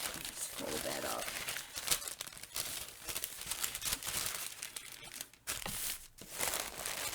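Crinkly packaging material rustles and crunches as it is folded up close by, a steady loud crumpling that runs through the whole stretch, with someone talking over it.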